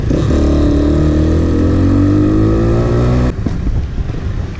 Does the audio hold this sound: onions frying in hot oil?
no